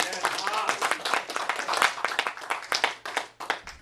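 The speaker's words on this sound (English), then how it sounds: "Give him a huge round of applause." A real estate seminar audience claps for a speaker, a short burst of moderately loud hand claps mixed with voices and cheering in the room.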